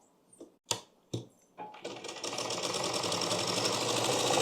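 A few sharp taps and clicks lead into a sewing machine starting up and running steadily, a quiet, even mechanical whir as it stitches a blouse.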